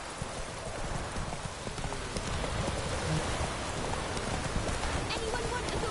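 Roach the horse gallops through rain in The Witcher 3, hooves pounding in a rapid, continuous clip-clop beneath steady rainfall, with a voice speaking over the hoofbeats.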